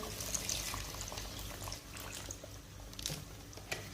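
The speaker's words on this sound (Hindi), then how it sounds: "शोरबे के लिए पानी शामिल कर देंगे।" Water pours steadily into a pot of mutton and potato curry with a continuous splashing rush, a few small clinks on top.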